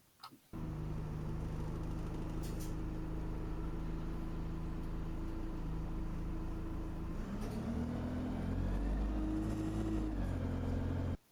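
A bus engine running under load as the gearbox shifts into third, a steady close drone that changes pitch partway through as the revs shift, then cuts off.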